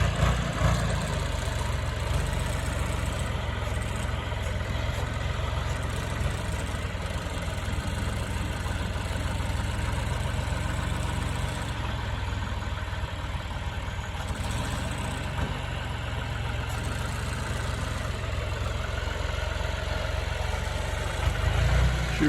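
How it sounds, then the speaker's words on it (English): A John Deere tractor's diesel engine idles during hay work, giving a steady, dense low rumble that holds evenly at moderate distance with no pauses or voices. "Blowing a little of that diesel smoke out of that John Deere right there."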